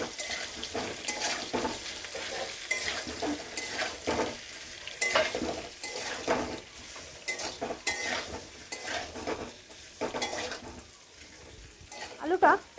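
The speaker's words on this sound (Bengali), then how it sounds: "আলুটা ভাজা হয়ে গেছে," Potatoes frying in a pan with turmeric and salt sizzle softly under repeated stirring and scraping, with a busy, uneven rhythm of spoon strokes close by and a voice talking over it.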